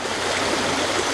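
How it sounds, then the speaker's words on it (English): Small creek beside a rainy campsite, a steady close rush of flowing water filling the whole moment with broadband hiss and no voices. "We're here by a little creek."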